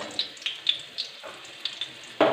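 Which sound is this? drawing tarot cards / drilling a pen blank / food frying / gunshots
food frying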